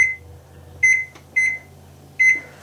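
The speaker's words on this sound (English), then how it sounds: "So I'm going to set the timer" An oven timer being set gives four short, sharp electronic beeps at uneven intervals, clear and close in a quiet kitchen with no talking.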